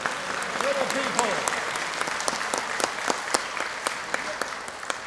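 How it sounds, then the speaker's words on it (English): Young children at a morning press conference applaud themselves, a steady patter of scattered claps with sharp individual smacks and a voice rising briefly over it. "I want all these little people to give themselves a round of applause"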